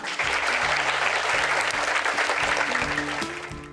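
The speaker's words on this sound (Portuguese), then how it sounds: "Vamos já começar com palmas para toda a equipe da caravana." Sustained applause from a crowd, steady and full throughout, tapering slightly at the end.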